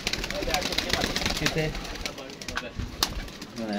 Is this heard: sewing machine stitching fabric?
no